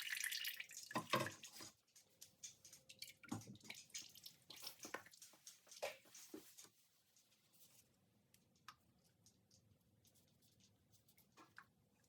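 Liquid ceramic slip draining and dripping from upturned plaster mug molds, an irregular patter of close drips, dense and splashy at first and then thinning to sparse, faint drops.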